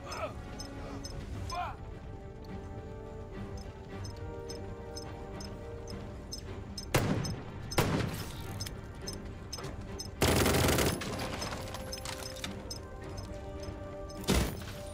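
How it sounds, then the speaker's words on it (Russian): Gunfire in the Jagged Alliance 3 tactical video game, with a few sharp shots and short bursts spread across a steady droning background, one longer burst near the end, while someone talks over it. "Почему они друг друга стреляют?"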